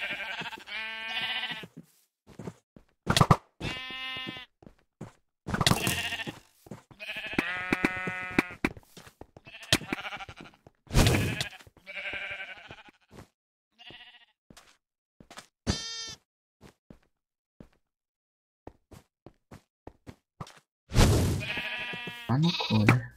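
A video game's sheep bleat again and again in short, loud bursts separated by gaps, some bleats overlapping, with no talking.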